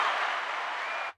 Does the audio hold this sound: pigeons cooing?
no